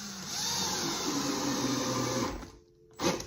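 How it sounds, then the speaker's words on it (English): A power drill drives a screw, whirring steadily for a couple of seconds, then slowing and stopping, followed by a brief short burst near the end. "That's why I'm using a drill, not an impact."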